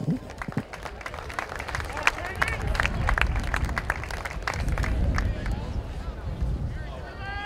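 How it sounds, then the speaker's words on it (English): Crowd at a track and field meet applauds, scattered claps and cheering spread across a large outdoor venue, mixed with babble and a voice over a loudspeaker. "Please give them all a round of applause."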